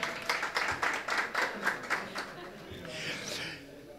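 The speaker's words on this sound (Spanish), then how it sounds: "si quieren aplaudir, no se corten" Audience at a flamenco cycle presentation in Pozoblanco clapping in a brief burst of rhythmic, fairly close claps that fade out into murmuring and light laughter.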